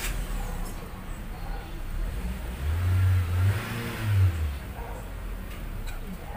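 A 2012 Chevy Spark engine starts and revs after its fuel pump assembly was replaced, a mid-pitched engine note swelling louder for a couple of seconds then settling into a steady idle, heard close up with people talking nearby.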